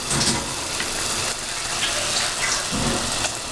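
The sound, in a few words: water being poured into chicken karahi pot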